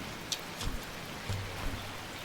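Steady rain falls over a garden, a soft even hiss with a few faint drips and taps, no voices.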